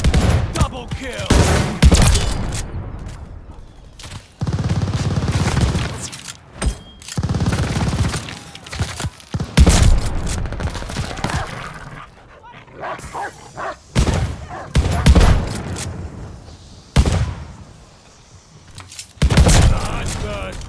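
Shotgun blasts in the video game Call of Duty Vanguard, loud booming shots in irregular bursts mixed with other battle noise and dog barks, with a player talking over the action.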